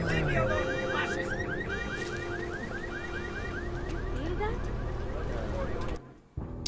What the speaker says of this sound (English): Okay, so there's alarms on cars.